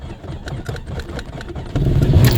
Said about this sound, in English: Key is in the ignition. I'm going to start it now.